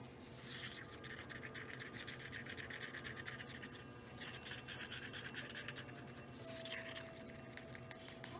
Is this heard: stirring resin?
yes